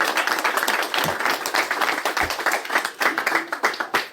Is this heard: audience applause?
yes